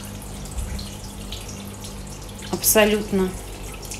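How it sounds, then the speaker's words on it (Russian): A homemade indoor decorative waterfall trickles steadily in a room full of houseplants, with a brief spoken word over the running water. "водопад я делала сама. Работает он у меня хорошо."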